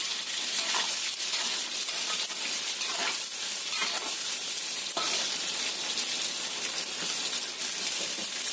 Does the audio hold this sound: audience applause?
no